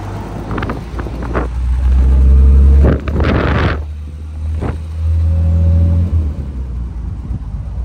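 A 1962 Jaguar XKE engine rumbles deep and close while driving, swelling into a loud rev, easing off, then climbing again under a low steady drone.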